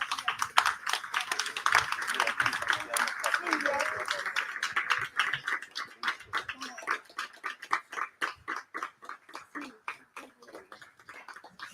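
An audience at a literary gathering with a poet applauds Lucio and Silvia, swelling into dense clapping that thins into slower, rhythmic claps before fading, with faint voices murmuring underneath.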